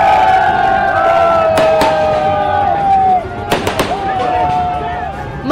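Fireworks go off at a homecoming celebration for Manish Sisodia in Patparganj, Delhi, with sharp bangs and crackles over a loud crowd, whistling streaks rising through the noise.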